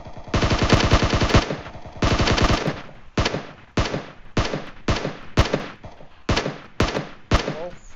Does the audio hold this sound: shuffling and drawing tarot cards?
no